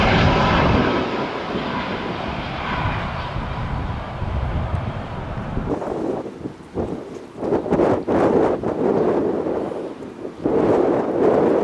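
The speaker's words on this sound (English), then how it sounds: "I can imagine that the pilot is actually struggling a little bit with the wind as they come into land here in Palma." A fixed-wing airliner descends to land at Palma, Mallorca, on a windy day. Its steady engine roar carries over heavy wind buffeting the microphone, then gives way to gusty, uneven wind noise.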